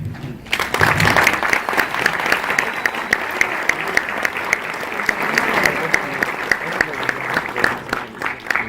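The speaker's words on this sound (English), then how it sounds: "Was anyone inspired today? Somebody clap." After a brief pause, a large audience of engineering students breaks into sustained, loud applause following an inspirational speech in Mexico, crisp individual claps cutting through the thick, even roar for several seconds.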